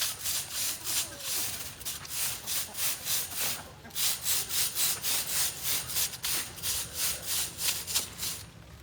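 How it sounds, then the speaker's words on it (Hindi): Iron wire brush scrubbing heavy rust off metal mesh while painting an open chicken farm, a close, rhythmic back-and-forth rasping of roughly two strokes per second with a short pause midway, and a voice talking over it. "अपना जब ब्रश पकड़ते हैं लोहे वाला, और इसको जब ज़रा हल्का सा जाली को मार देते हैं क्योंकि जंग जो बहुत ज़्यादा लग गया वो जाली को"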